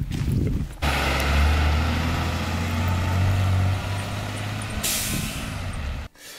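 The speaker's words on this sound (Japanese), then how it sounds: "スクールバスだね" A school bus idles close by with a loud low engine rumble, a hiss from its air brakes, then sudden quiet at the end.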